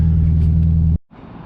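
Air-cooled VW Beetle engine rumbling steadily at idle just after a push start, loud and close, then cutting out abruptly before a quieter low rumble resumes.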